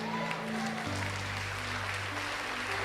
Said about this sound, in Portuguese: E aqui eu quero que a igreja glorifique, se não aplauda.